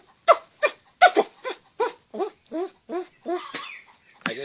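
A voice imitates a squirrel with a rapid series of about a dozen short, clipped squeaky chirps in a steady rhythm, close and moderately loud.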